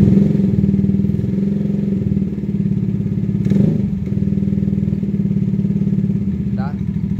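A Yamaha NMAX scooter engine idling with a steady, close, buzzing putter throughout, with people talking over it.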